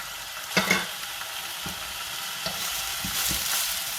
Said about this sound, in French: Je viens ajouter au-dessus des oignons notre viande hachée avec les épices